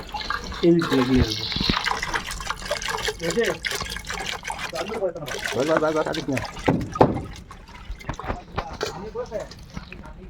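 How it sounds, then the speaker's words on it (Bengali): Bamboo shoots rinsed lightly in water outdoors in a forest, with splashing and trickling water close by beneath a voice talking over most of it. "এখানে বাঁশের কোরলগুলোকে হালকা করে ধুয়ে নিচ্ছি।"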